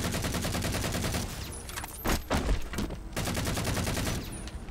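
Rapid automatic gunfire rattles from a weapon in the first-person shooter Halo 4, a dense, continuous burst that pauses briefly for a few heavier booms before the rapid fire resumes, loud and with no talk over it.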